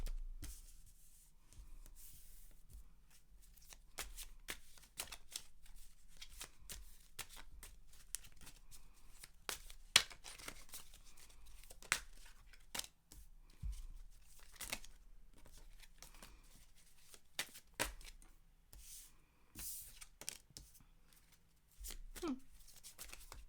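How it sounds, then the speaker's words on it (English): Tarot cards shuffled by hand, a long run of soft, irregular riffling and sliding taps with occasional sharper snaps, close and quiet, with no talking. "let's shuffle the cards"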